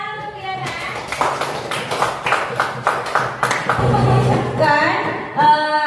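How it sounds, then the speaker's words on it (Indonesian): Classroom audience clapping for a student named Diana, a burst of quick overlapping handclaps that builds and fades over several seconds, with voices mixed in. "Tepuk tangan untuk Diana."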